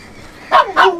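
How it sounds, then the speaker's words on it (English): Two dogs bark at close range, two quick, loud barks in a row, one slightly higher pitched, with nothing else behind them. "There's my dogs that are about to be squirted."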